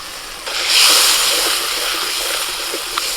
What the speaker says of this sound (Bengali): এখন এর মধ্যে আমি বাটনা বাটা জলটা দিয়ে দিচ্ছি।